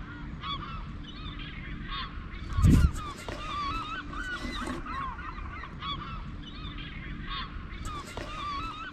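Seagulls on the Brittany coast call repeatedly as they fly off, with scattered faint cries over a steady background hiss and one brief low thump partway through.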